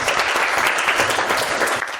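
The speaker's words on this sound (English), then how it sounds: "Can you please clap for yourselves?" A class of secondary school students clapping for themselves at the end of an English lesson, with dense, close, continuous applause across the whole moment.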